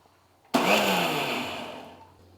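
A mixer grinder grinding peanuts whirs on abruptly with a loud, harsh grinding roar that holds steady, then gradually winds down as it slows.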